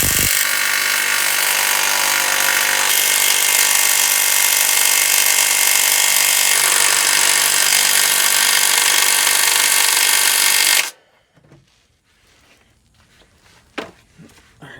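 A power tool whirs continuously and loudly for about eleven seconds on a 2015 Toyota Corolla's oil drain plug, then cuts off abruptly, leaving quiet clinks and handling noises.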